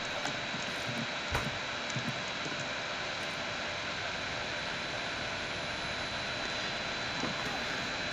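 A steady, loud aircraft engine drone fills the plane map in the game Rainbow Six Siege, constant throughout with faint scattered thuds and footstep-like knocks over it.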